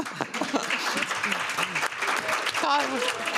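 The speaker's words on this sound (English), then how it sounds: "Big applause to Minima" Applause from the audience at a panel on policing and sex workers' access to justice, moderate clapping mixed with voices and cheering in the room.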